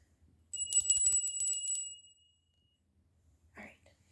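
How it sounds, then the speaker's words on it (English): A small bell rings with bright, sustained high tones for about a second and a half, struck in a rapid series, as energy is cleared before a tarot reading. A brief quiet voice follows. "I'm going to ring a bell to clear the energy."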